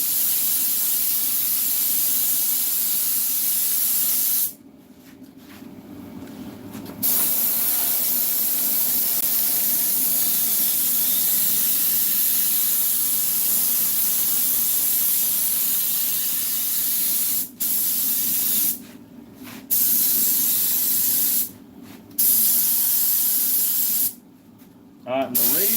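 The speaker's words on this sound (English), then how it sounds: "that don't have to go that far, so I ain't got to spray that much glue on it." Spray adhesive hisses loudly from an aerosol can onto a plastic dash panel of a 1964 Cadillac being recovered, with long close bursts broken by short pauses and a few quick spurts near the end.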